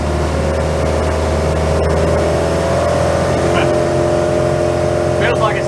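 A 34 ft Hartley timber boat's inboard engine throttled up toward 3000 rpm gives a loud, steady droning rumble with a rising tone, running throughout close by, with faint voices in the background.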